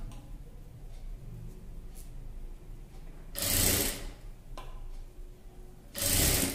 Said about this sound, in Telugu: ఇప్పుడు సీదా వేసి స్టిచ్చింగ్ చేస్తాను చూడండి